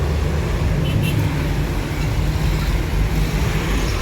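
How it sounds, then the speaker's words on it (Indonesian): Sumber Jaya Trans buses idle and move at a bus terminal, a steady loud low rumble of engines and road noise running throughout with faint voices in the background. "Satu bus yang tiba dari Tasik"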